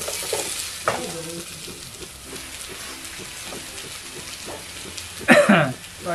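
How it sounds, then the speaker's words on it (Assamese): Chopped onions sizzle and fry in hot oil for chicken pulao, with a steady crackle under intermittent talk and a sudden louder burst of sizzling near the end as they are stirred. "এতিয়া চকলকৈ কটা পিঁয়াজখিনি দিছোঁ"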